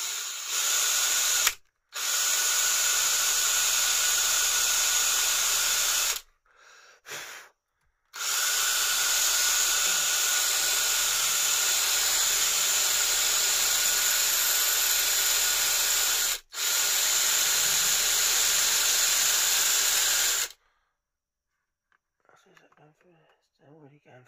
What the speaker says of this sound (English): So what we need to do is just drill a hole in the bottom here